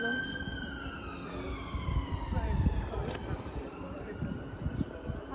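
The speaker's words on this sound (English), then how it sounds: "Ambulance." An emergency siren wails past near a level crossing, its rising and falling tones sweeping down in pitch as it goes by, heard under nearby chatter.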